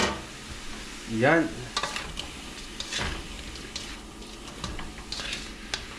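Pork and shrimp sautéing in a pan for ginisang upo, a steady close sizzle with stirring clatter, as someone briefly speaks over it.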